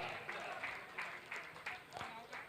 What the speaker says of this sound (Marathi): चाहत्यांच्या टाळ्या आपसुकच तुम्हाला ऐकायला मिळतात